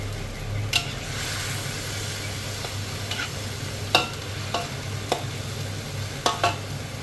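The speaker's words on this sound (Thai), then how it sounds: "แล้วเราจะเติมน้ำลงไปแล้วก็ใส่ผักค่ะ" Pickled mustard greens and water go into a pot of pork soup, giving a steady hissing bubble with a scattering of sharp clinks and scrapes from utensils against the pot, close by and with no talking.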